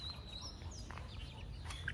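Domestic desi chickens dust-bathing in soil on a rooftop give soft, faint clucks and brief high chirps over a steady low rumble.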